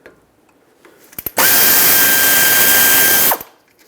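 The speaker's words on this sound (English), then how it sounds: "Use a 14mm wrench or socket and break free the 2 bolts that hold the caliper onto the slider pins and onto the bracket" A powered socket tool whirs loudly for about two seconds while loosening the 14mm caliper bolts on a 2018-2023 Subaru Crosstrek front brake, preceded by a few sharp clicks and then cutting off abruptly.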